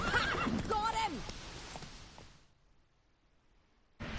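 A loud, close whinny from Roach, the horse in The Witcher 3, with clip-clop hoofbeats, fading to near silence before a sudden burst of sound at the end.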